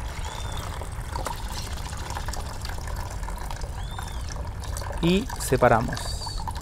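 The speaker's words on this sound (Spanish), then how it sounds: "Que se mueva bien todas las semillas con el chorro de agua." A jet of water pours and trickles over seeds being rinsed, a steady running stream throughout, with a person speaking briefly near the end over the flow.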